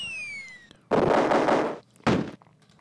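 Grenades explode in the Cannon Fodder video game: a falling whistle gives way to a long, loud blast, then a second shorter burst after a brief pause.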